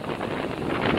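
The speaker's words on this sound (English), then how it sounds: "There's probably a 40 to 50 mile an hour gust front blasting off of" Strong storm wind from a 40 to 50 mph gust front, a steady loud roar buffeting the microphone without a break.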